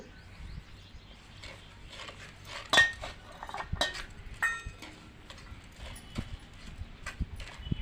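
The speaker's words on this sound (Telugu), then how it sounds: "మంచిగా కలుపుకోవాలి కిలో మామిడికాయ ముక్కలకు పావు కిలో ఉప్పు" Mango pieces being mixed with salt and chili powder for pickle, about a kilo of mango to a quarter kilo of salt, make irregular clinks, taps and scrapes against a vessel, quiet with a few sharper knocks.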